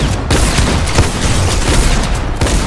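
Gunfire in the video game Fortnite erupts as a loud, dense burst of shots that continues without a break, with no talking over it.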